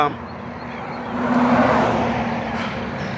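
Traffic on a road: a steady broadband rush swells to a peak about halfway through as a vehicle draws near, then eases off. A low hum runs beneath it, with some faint voice-like sound in the background.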